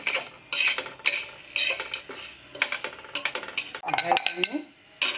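Whole spices for chai masala, including cloves, cardamom, fennel seeds and nutmeg, are stirred and dry-roasted in a pan, with a spoon clinking and scraping against the metal in a steady rhythm, close and moderately loud.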